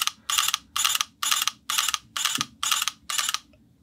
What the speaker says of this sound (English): Wait, listen to this shutter. How beautiful it sounds, how smooth,